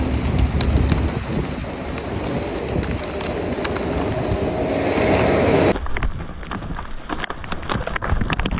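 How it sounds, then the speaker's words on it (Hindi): Pigeons flock close behind a person scattering grain in Makkah, with dense wingbeat flutter and scuffling against steady outdoor wind and ambient noise, continuous throughout. "ये देखें कबूतर, देखें कैसे पीछे पीछे आ रहे हैं।"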